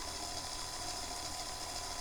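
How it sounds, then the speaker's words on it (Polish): An Abilix Krypton robot kit motor on port A runs at speed 50, giving a faint, steady mechanical whir with a fine gear-like buzz that holds evenly throughout. "po uruchomieniu włączy silnik port A, prędkość 50, odczeka 3 sekundy i wyłączy"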